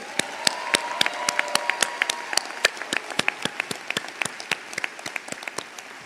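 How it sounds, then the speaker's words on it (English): Audience applause at a 2025 PharmD graduation ceremony: a dense, steady round of many hands clapping that carries on for the full stretch at an even level. "Let's do another round of applause."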